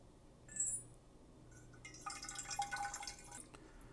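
Room temperature water is poured into a thermos sitting on a kitchen scale while making Neapolitan pizza dough, with faint drips first, then a short steady trickling fill, quiet and close.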